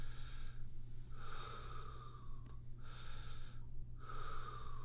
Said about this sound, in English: where I take a deep breath in